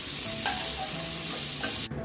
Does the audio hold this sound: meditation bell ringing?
no